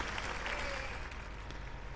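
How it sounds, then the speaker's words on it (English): A snooker crowd at an international match applauds a fluked shot, a steady, faint patter of many hands clapping at some distance, filling the whole moment without speech. "But it gets a good round of applause from the crowd."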